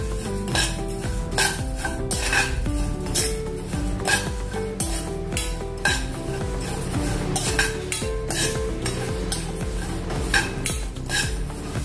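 Fenugreek seeds and black pepper dry-roast in a pan, stirred briskly with a metal spoon that scrapes and clinks against the pan in quick repeated strokes, loud and close.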